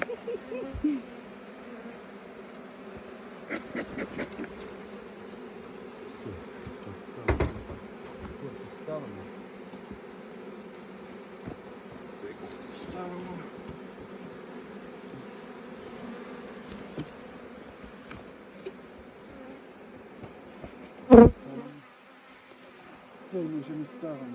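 Steady low buzzing of many bees in a hive box full of bees and honey frames during honey harvest, continuous and close, with occasional sharp knocks and clicks.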